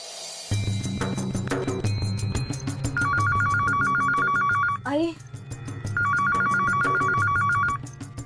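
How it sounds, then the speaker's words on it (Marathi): A telephone rings in a household scene from a Marathi TV serial, repeated electronic bell bursts over a sustained background music bed, with a short break between rings. "फक्त फोन वाजतोय"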